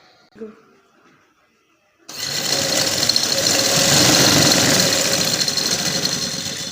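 After a short quiet lead-in with a faint sound, a sewing machine starts abruptly and runs steadily, stitching a decorative design on a trouser cuff, loud and close with a dense, even mechanical whir.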